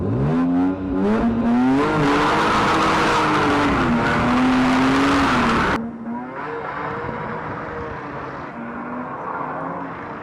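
A Metro 6R4 replica drifts with its engine revving hard: a loud, wavering, high-pitched engine note with some tire noise that suddenly drops to a quieter, duller rumble partway through.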